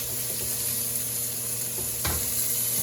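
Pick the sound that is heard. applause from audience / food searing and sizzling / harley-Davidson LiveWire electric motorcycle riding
food searing and sizzling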